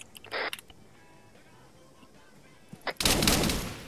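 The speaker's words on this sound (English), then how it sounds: "are you nearby your the sound of gunfire at this time?" A couple of sharp video game gunshot bursts, from a Vietnam War game, one brief crack early and then a louder, longer volley of rapid fire near the end, with quiet between.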